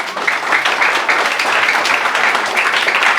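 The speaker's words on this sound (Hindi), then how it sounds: "तो ताली बजना चाहिए ना।" Classroom of students clapping together after a school acid-base chemistry experiment, a dense, close burst of hand claps sustained steadily throughout.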